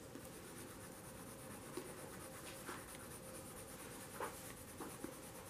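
Colored pencil shading on paper with diagonal, near-horizontal strokes, a faint, steady close rubbing scratch with a few slightly louder strokes and no talk.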